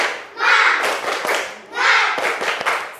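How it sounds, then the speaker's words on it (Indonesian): Schoolchildren in a classroom do a rhythmic clapping chant led by their teacher, two swelling bursts of group voices and claps with sharp hand slaps between them, fairly close. "Kita tepuk semangat dulu ya, supaya kalian tetap semangat."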